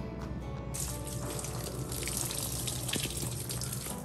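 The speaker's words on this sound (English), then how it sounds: "That time again watering time. Time to water the greenhouse too." Water runs steadily from a hose or tap while a greenhouse is watered, a continuous hissing gush that holds for the whole stretch at moderate level with no talking.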